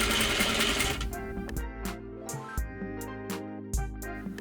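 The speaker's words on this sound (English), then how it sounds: "Sew your bias tape in place with a 1/4 inch or 6 millimeter seam allowance." A sewing machine stitches bias tape onto trousers fabric at a quarter-inch seam allowance. It runs in quick, close, steady bursts with short stops between them, and no voices are heard.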